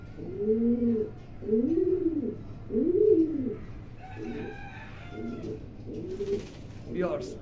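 Pair of foreign-bloodline racing pigeons cooing close by in repeated low rolling phrases, three strong coos followed by softer ones, with faint background chatter.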